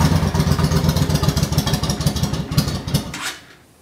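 A Yamaha V Star cruiser motorcycle's engine runs close by with a lumpy, loping idle pulse of regular throbbing beats, then shuts off and fades away in the last moments.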